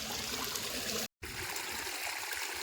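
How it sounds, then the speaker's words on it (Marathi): Steady rushing water from a small waterfall, broadband and continuous, with a brief dropout in the middle. "छोटासा धबधबा"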